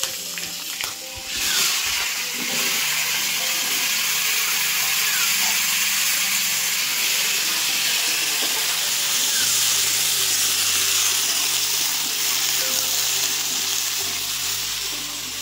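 Green chillies and raw pumpkin drop into hot oil for a katla fish and raw pumpkin curry, setting off a loud, dense, continuous sizzle that holds steady over a low background hum.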